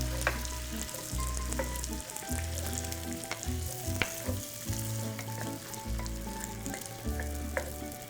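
Tomatoes sizzle in oil with garlic and onions over medium heat, a steady close frying hiss with faint stirring scrapes, a low kitchen hum running underneath and no one speaking.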